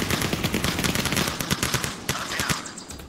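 Rapid bursts of video game gunfire, dense automatic shots crackling loudly in quick succession with a few sharper single reports near the end, no talking.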